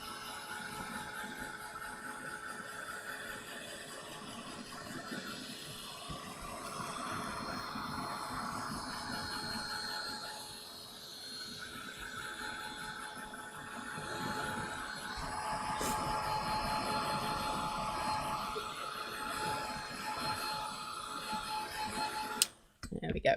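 A heat tool for drying a craft project blows in a continuous airy roar that swells and dips in loudness for most of the stretch, while someone talks over it.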